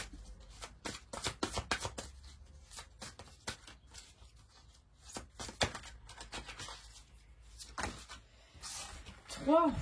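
Oracle cards are shuffled and drawn close up, giving repeated papery riffles and slaps in uneven bursts while someone talks over them.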